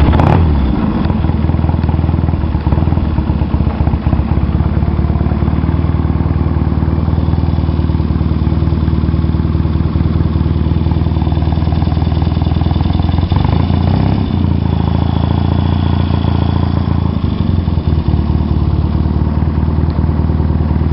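1972 Triumph Daytona 500 motorcycle running on a cold day, a loud, steady engine drone close by with a rough pulsing beat that holds throughout.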